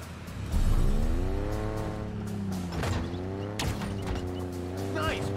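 Razorback vehicle in Halo Infinite, a combat buggy driving along with a rising and falling engine drone, gear-shift sweeps and bumps, under the game's soundtrack.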